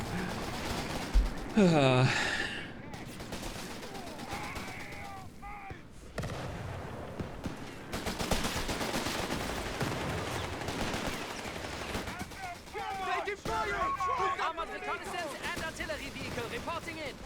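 Gunfire from a 17 pounder anti-tank gun in a battle video game, heavy booming shots and bursts of fire over constant rumbling noise, while someone talks over the action.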